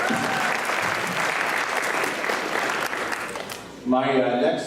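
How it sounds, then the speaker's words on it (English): An audience at a Unity in Diversity dinner gives a speaker a sustained round of applause, a steady wash of clapping that ends abruptly as a voice starts speaking close by. "Let's give Dr. Tiwari a round of applause again."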